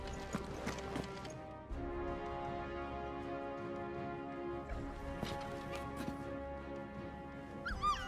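In the video game Final Fantasy XVI, a dog whimpers softly amid clip-clopping hooves and faint ambient music, the sounds low and close with a brief louder yelp near the end.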